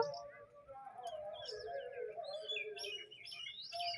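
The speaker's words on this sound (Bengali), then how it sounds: "পাখিগুলো শুধু দেখাচ্ছে কিচিরমিচির করছে" Several small birds chirp and tweet on a rooftop, quick bright calls overlapping at moderate distance over a low background hum, with faint voices in between.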